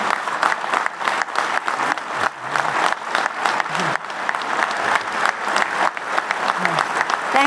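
A large audience applauds at a U.S. legislative conference, sustained loud clapping rolling on without a break, with scattered crowd noise mixed in.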